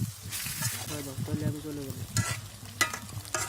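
Desi chicken pieces fry and get stirred in a pan in village-style cooking, with a steady sizzle and spatula scrapes, close and moderately quiet, and a faint voice briefly audible midway.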